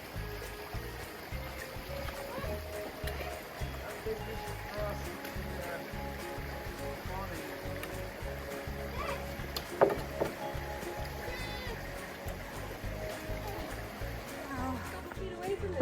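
A creek flowing steadily along a canyon hiking trail in Santa Paula Canyon, a constant close rushing wash of water with faint voices mixed in underneath.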